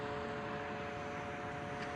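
A scale model airplane takes off with a steady, droning engine whine that stays constant and moderately loud over a broad hiss of wind, without speech.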